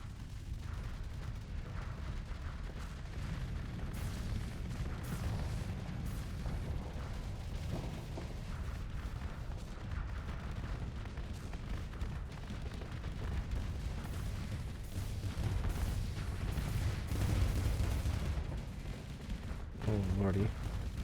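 Missiles fire and strike targets during space combat in the Starsector video game, a dense continuous barrage of booms and bursts with someone talking intermittently over it.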